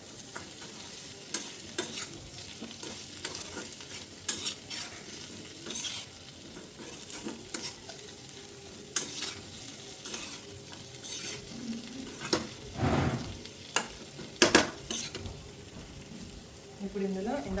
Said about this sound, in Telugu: ఒకసారి మళ్ళీ మొత్తం మిక్స్ చేసుకోండి.